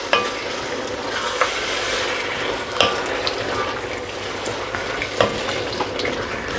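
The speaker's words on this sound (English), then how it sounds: "And then just give it a mix." A lamb biryani mixture is stirred in a pot, a steady sizzling and scraping that runs throughout, with sharp spoon knocks against the pot at irregular moments.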